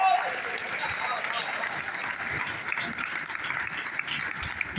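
Audience applause fills a poetry gathering (kavi sammelan) at Jain Bagh in Saharanpur, a steady wash of clapping from a crowd that holds evenly throughout, with faint voices mixed in.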